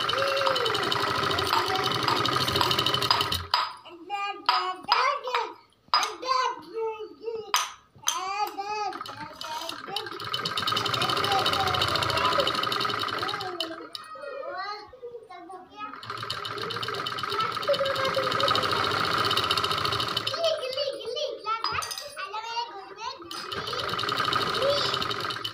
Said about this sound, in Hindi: अब ऐसे इसको सिलते जाना है आसन तक दोनों साइड को, सिलने से सलवार बराबर बैठता है।